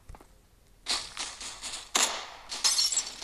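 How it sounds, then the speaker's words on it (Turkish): Glass shatters in a horror video game, with bursts of breaking and tinkling shards crashing in several quick successive impacts, loud and close. "Camı kırabiliyor muyum?"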